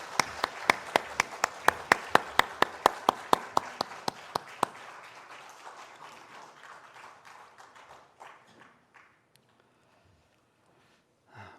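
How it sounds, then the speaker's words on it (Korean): Church congregation giving a round of applause in worship, strong unison rhythmic clapping that breaks into scattered applause and fades away to near silence. "하나님께 영광의 박수 올려드리겠습니다."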